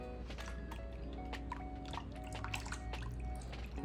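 Two eggs being mixed into a cooled bread pudding mixture, giving soft, wet squishing and dripping stir sounds that carry on steadily throughout at a moderate, close level.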